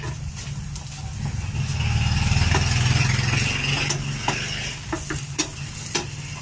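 Garlic sizzles in a small amount of cooking oil in a pan, a steady close frying hiss that swells midway, punctuated later by a few sharp clicks and taps of utensils.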